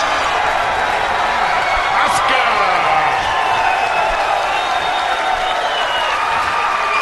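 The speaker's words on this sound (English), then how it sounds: "And the crowd will let you know what happened in that rack." A crowd at a Mosconi Cup 2017 nine-ball pool match claps and cheers, a steady, dense roar of applause with whoops running the whole time, one voice shouting a name above it and commentary under the noise.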